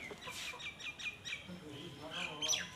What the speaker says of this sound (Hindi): ये देखो कितना बड़ा मुर्गी शत्रुमुख बोलता है इसको